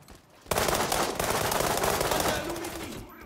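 Sudden loud burst of automatic gunfire in the video game World War 3, erupting after a quiet start and continuing as dense overlapping shots that slowly fade.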